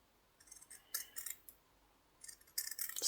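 Several short crisp snips of scissors cutting embroidered fabric in small bursts, close by and quiet, with pauses between groups of cuts; no talking.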